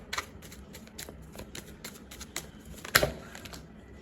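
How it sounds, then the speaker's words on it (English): Tarot cards are pulled one by one from a shuffled deck, giving soft close papery slides and flicks with one sharper snap near the end. "So just give me a second while I pull out a few cards."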